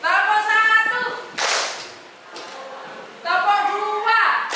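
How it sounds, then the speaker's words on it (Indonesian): A class clapping game: a single loud clap from many hands in a classroom, briefly trailing off, between stretches of a teacher's voice. "kita tepuk 1 kali ke sebelah kanan"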